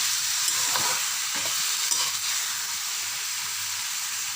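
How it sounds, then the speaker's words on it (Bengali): Gima greens being stirred and fried in mustard oil make a continuous close sizzle and hiss, with a few soft scraping stirs early on and no talking. "এটা নাড়তে নাড়তে ভাজা ভাজা হয়ে গেলে এটা সিদ্ধ হয়ে যাবে।"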